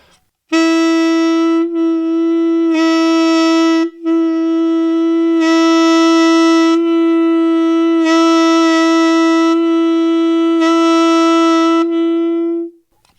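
A saxophone plays a slow series of sustained notes, slightly dulled and muffled by the tongue resting on the reed, with short breaks between them and no voices.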